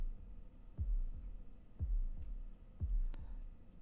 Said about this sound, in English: I like the heartbeat and the ticking here.